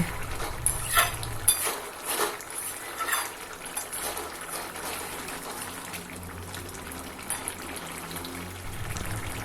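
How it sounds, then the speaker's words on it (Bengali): Tomato chicken being stirred with a spatula in a pan after garam masala goes in, giving repeated wet scraping and clinks of utensil on metal over a steady background hiss, close and moderately loud. "গরম মশলা দেওয়ার পর আমি খুন্তি দিয়ে ভালো করে নাড়িয়ে দেব"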